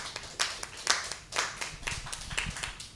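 Scattered hand claps from a small group, uneven and fairly light, with no talking over them.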